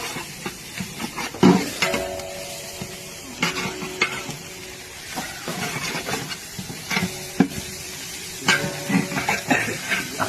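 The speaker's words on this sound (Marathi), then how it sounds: "थोडा लसूण टाकून चांगला लसूण पण फ्राय करायचा आहे आपल्याला." Green chillies and garlic frying in a pan, with a steady sizzling hiss punctuated by repeated clattering stirs and scrapes in bursts throughout.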